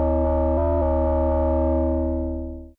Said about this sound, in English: I'll add on the distortion